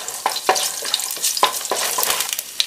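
Cumin seeds, cinnamon sticks and cloves sauteing in hot oil in a pan, a loud dense crackling sizzle with sharp pops and stirring clicks scattered throughout, no voices.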